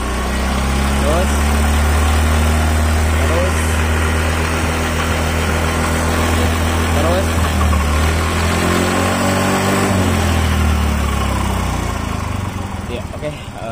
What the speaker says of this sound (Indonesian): Oke, kita gas sedikit-sedikit. Gas lagi.